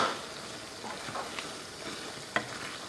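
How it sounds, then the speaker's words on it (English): Okra (ladyfinger) stirred in a hot pan for dahi bhindi, a soft steady sizzle of frying under a few scraping stirs, with one sharper clink near the end. "Time to add the ladyfinger. Mix it well"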